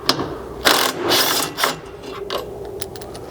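A 13mm socket wrench ratchets out a front bolt on a Chevy Colorado skid plate: several short bursts of rapid clicking, close by, separated by brief pauses, with no speech.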